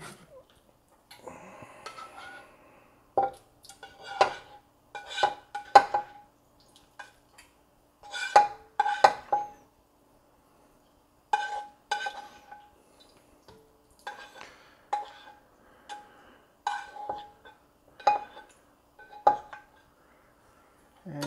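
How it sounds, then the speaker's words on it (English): Lentils and basmati rice are stirred in a pot outdoors, with intermittent clusters of spoon clinks and scrapes against the metal separated by quiet pauses, close but fairly soft. "Give it a good stir. Everything mixed up really good."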